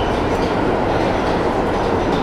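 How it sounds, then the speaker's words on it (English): New York City subway train rumbling beneath and in front of an old bar, a loud, continuous roar of wheels and rail noise filling the room without letup, with no speech. "The subway runs right in front and kind of really underneath the restaurant."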